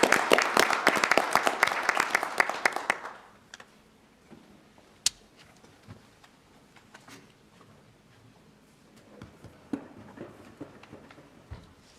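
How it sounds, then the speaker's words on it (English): Audience applause at a county commissioners' meeting, a burst of many hands clapping for about three seconds that stops abruptly, followed by quiet room noise with a few faint taps and clicks. "I'd like to give our citizens a round of applause for what they have done for Nash County"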